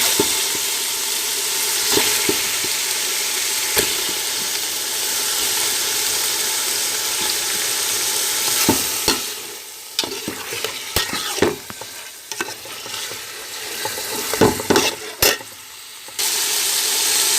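Chicken frying with tomato paste in a pan for a student-style biryani, sizzling steadily up close before giving way to clattering, scraping strokes of a spoon stirring the mixture.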